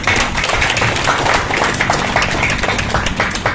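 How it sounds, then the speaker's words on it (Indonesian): Sustained crowd applause at a village head handover ceremony, dense scattered claps continuing steadily for several seconds with no pauses. "Mana tepuk tangannya?"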